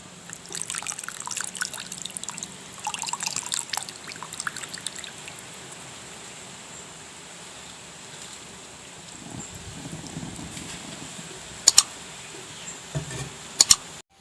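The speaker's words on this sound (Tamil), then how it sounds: "இப்போ வந்து இந்த கரைச்சி வச்ச புளி விட போகிறேன்" Dissolved tamarind water pours into a simmering village-style egg curry, giving a steady liquid trickle and splash for the first few seconds. A quiet bubbling follows, then a couple of sharp clinks near the end.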